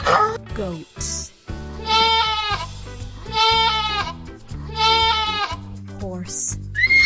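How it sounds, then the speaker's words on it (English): Goats bleat three times in a row, loud and close, with wavering cries over steady background music. "Goats."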